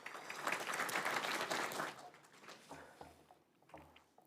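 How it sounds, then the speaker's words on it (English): An audience at a university academic-year inauguration ceremony applauds the new students, a loud wash of clapping that swells and then tapers off, leaving scattered claps and quiet low sounds. "Let's welcome them with a round of applause"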